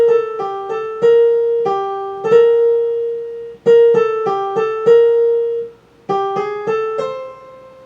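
Solo piano playing the last line of a piece, right-hand melody only, in short phrases of distinct plucked notes with brief pauses between groups, clear and close with no talking.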